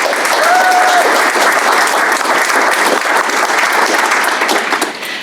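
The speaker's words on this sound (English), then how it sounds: "so give them a round of applause" Audience at a Melbourne charity trailwalker information night gives a round of applause, steady dense clapping loud and close throughout, sustained evenly before tapering slightly at the end.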